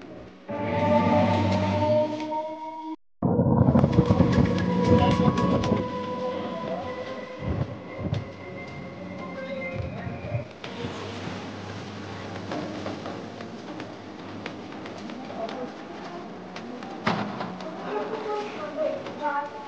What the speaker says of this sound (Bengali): ট্রেনে উঠে পড়লাম।